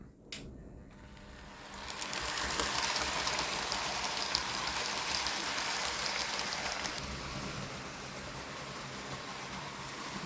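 A large model railway locomotive with tender runs along its track, giving a steady, close whirring rumble with fine clicking texture that swells after the first two seconds and continues alone.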